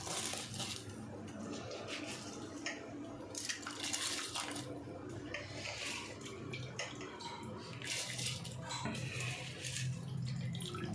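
Steady bubbling and hissing of a pot of water boiling basmati rice, with occasional clinks of a utensil against the pot and no voices.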